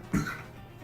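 A single short, soft cough, close by, followed by quiet.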